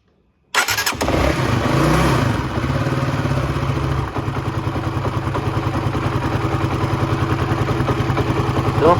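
A motorcycle engine fitted with a new cam chain tensioner cranks and fires, then settles into a steady, smooth idle close by, with no voices over it.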